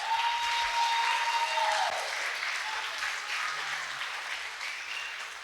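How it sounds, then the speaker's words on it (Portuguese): Church congregation applauding during a sermon, a broad, continuous round of clapping filling the hall that slowly tapers off, with a brief tone near the start. "Pode aplaudir Jesus."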